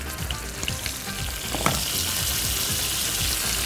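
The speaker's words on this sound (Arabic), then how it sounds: "انا هحمرها على الوشين" Chicken pieces seasoned with salt and pepper fry in a pan for garlic chicken, giving a steady, close sizzle and crackle with a few sharper pops, and no voices.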